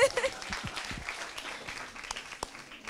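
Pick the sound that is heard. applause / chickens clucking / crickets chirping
applause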